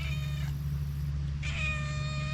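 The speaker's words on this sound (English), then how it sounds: "There's the kitty." A cat meows on a farm, with two drawn-out calls separated by a pause, heard over a steady low hum.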